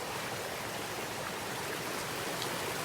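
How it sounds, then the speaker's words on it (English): Drainage water runs off a walking trail into a creek, a steady, soft, even rush of flowing water with no voices and no breaks. "Our water continues to run off the trail here, and you can see it is still running this location."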